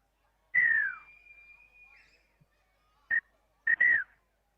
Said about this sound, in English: Shocking whistle time